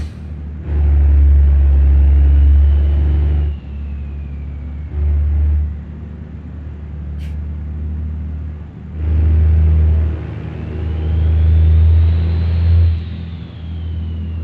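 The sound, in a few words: Power Stroke Cummins truck engine in BeamNG.Drive video game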